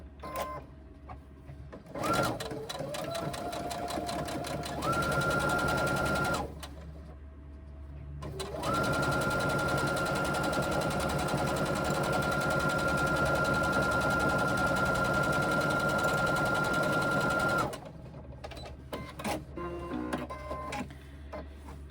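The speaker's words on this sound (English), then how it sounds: "We are going to sew the other body piece to one of the side pieces." A sewing machine stitches a quarter-inch seam joining the body and side pieces of a reversible fabric tote bag, running steadily in two long whirring stretches with short pauses and handling sounds between.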